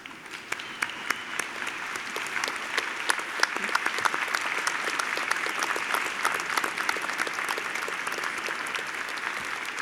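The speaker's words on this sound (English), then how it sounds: "please stand and applaud the professors behind me on the stage" A graduation audience at a Concordia ceremony stands and applauds the professors on stage, giving sustained, dense clapping from a large crowd that holds a steady level throughout.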